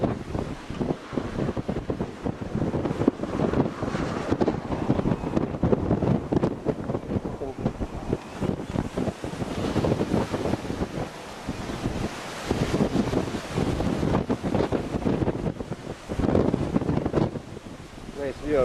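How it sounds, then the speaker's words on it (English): Strong gusty wind buffets a van and roars across the microphone, rising and falling in surges throughout, with someone talking intermittently under it. "It's just the wind."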